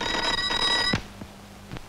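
A telephone rings with a bright, shrill electronic tone in a steady burst of about one second, then cuts off, leaving a faint background with a couple of soft knocks.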